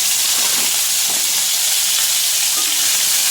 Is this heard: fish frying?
yes